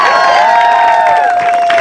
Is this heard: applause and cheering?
yes